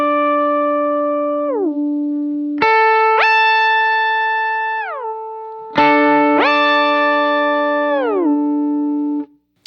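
Electric guitar through a whammy pedal set an octave up with about a 75% blend: sustained notes that glide smoothly up and down in pitch, with shimmering doubled tones, played alone and close.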